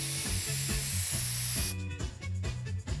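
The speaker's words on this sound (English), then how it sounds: "Come over here and let Jacob spray it with some shaving cream." A sustained hissing spray of shaving cream from an aerosol can over background music, cutting off partway through as the music continues.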